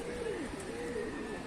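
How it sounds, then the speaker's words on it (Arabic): Domestic pigeons fly overhead and coo, with soft, warbling coos and faint wing sounds at a moderate distance under steady outdoor background noise. "بصوا بقى يا رجاله، حمام ده طاير اهوت جنبي اهو"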